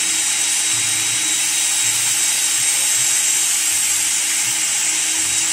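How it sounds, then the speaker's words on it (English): A Work Sharp Ken Onion belt knife sharpener running a knife blade against its belt, producing a continuous grinding whir with a faint high whine that stays steady throughout, close up and with no voices. "So it's basically like a belt sander, and it has a trigger on the bottom."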